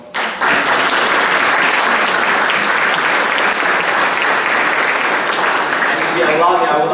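Sustained audience applause fills an academic-year opening ceremony hall, loud and dense from start to finish, with faint voices near the end.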